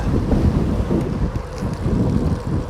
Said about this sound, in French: Même dans la descente, le vent me ralentit là.